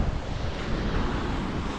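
Steady breezy wind rushing across the microphone, a constant broadband whoosh with no pauses, fairly loud and close.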